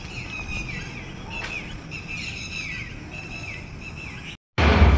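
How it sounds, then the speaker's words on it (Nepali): Birds chirp steadily at a distance, high and thin, before the sound cuts out and a louder burst takes over at the end. "चराहरूको आवाज त सुन्दै हुनुहुन्छ नि।"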